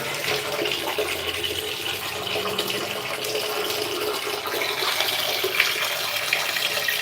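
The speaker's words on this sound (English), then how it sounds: "Yes, I wash my clothes like this." Clothes being washed by hand in water, a continuous splashing and sloshing wash of liquid that stays close and steady throughout, with no speech.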